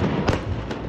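Fireworks hurled by protesters during violent riots over COVID restrictions in Rotterdam, with two sharp bangs rising above a dense, continuous roar of crowd noise.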